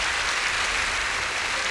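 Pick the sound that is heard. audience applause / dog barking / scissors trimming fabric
audience applause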